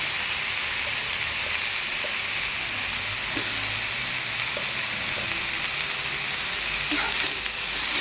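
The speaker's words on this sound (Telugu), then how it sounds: "ఆయిల్లో చాలా లైట్గా ఫ్రై అవ్వాలి" Mango pieces frying lightly in oil in a pan, a dense, even sizzle and crackle throughout with a few faint pops and stirs, no voices.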